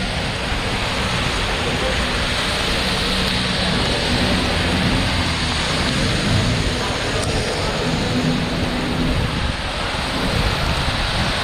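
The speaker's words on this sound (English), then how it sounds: "Let me wipe off the rain." Steady heavy rain and gusting wind batter the microphone during Hurricane Ian in Key West, a loud unbroken broadband roar lasting throughout with no clear voices.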